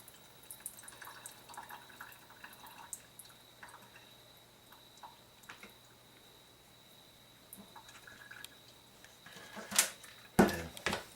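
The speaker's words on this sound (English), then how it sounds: "Drain the water, or brine." Salty pickle brine and ice water drained off while making refrigerator pickles: faint, scattered drips and trickles over a quiet room, ending with a few louder splashes and clatters.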